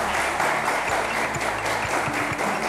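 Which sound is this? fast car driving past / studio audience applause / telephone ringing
studio audience applause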